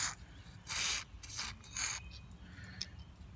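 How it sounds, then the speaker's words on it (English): Hood latch assembly on a 1976 Ford truck being worked by hand during greasing: several close metallic rubbing and scraping strokes with squeaky sliding sounds and a light click near the end. "I like to work the latch."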